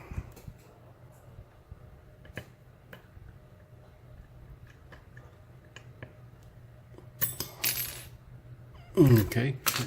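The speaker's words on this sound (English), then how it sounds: "I'm launching my tension wrench here." A metal tension wrench springs off a Federal 90A lock being picked and drops with a sharp, bright clatter near the end, after several seconds of quiet with faint ticks.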